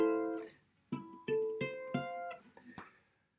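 A guitar plays a major 7 chord in closed position, first as a ringing strum that decays, then as individual notes plucked one after another, each ringing briefly before fading to quiet.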